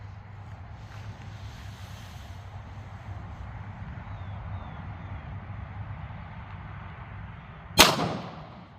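A single loud, sharp shot from a .40 S&W Smith & Wesson M&P pistol firing a Barnes TAC-XPD 140gr round into a gel block outdoors, sounding near the end after steady wind and ambient hiss.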